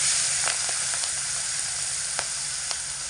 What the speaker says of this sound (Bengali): এবার গরম তেলের মধ্যে লবণ হলুদ মাখিয়ে রাখা মাছগুলোকে দিয়ে হালকা করে একটু ভেজে নেব।